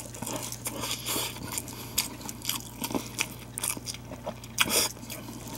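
Someone eats a convenience-store snow crab triangle gimbap, with soft close bites and chewing crunches of rice and seaweed wrapper in an irregular rhythm, faint and without talk.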